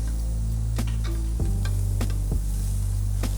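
Carrot, celery, onion, spring onion, ginger and kaffir lime sautéing in a pan for king crab spaghetti, a steady close sizzle broken by occasional clacks of stirring.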